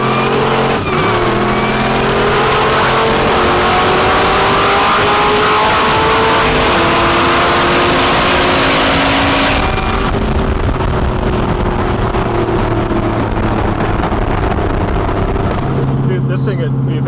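A garage-built LS-swapped, supercharged LSA Mazda RX-7 race car engine roars loudly and continuously, pitch climbing through hard acceleration with gear changes, then dropping as it pulls away, raw and close throughout.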